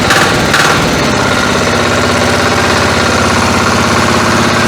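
A walk-behind tractor engine runs loud and close with a steady, rattling chug, holding constant throughout without any speech.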